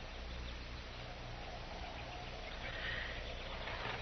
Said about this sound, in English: Now, there's your horse.